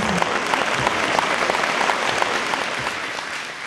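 Steady applause from an audience at a gathering of Aromanians celebrating spring in Constanța, filling the whole stretch evenly at close range with no voices over it.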